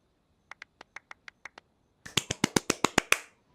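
A run of sharp, light claps at a steady pace, followed by a louder, quicker burst of claps that sounds nearby.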